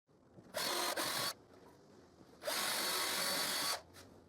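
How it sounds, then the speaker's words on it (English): A power drill bores guide holes into a pallet wood shelf in two bursts, a short whine with a brief stutter, then a longer steady run, close and loud against a quiet background. "I also drill the guide holes to attach the shelf to the wall coat hanger"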